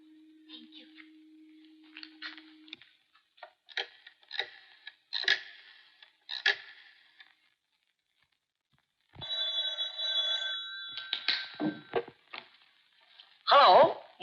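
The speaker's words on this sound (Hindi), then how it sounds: "टेलीफोन।" A landline telephone bell rings in an old Hindi film scene near a garage, a bright metallic ringing burst midway through, set among sparse clicks and short spoken exchanges.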